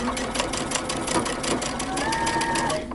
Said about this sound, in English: now I went ahead and put my dress back onto the sewing machine